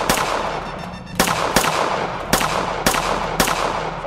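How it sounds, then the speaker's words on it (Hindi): Gunshots ring out in a comedic action skit, five sharp, loud cracks spaced roughly half a second to a second apart over a noisy background. "गोली चलाइए।"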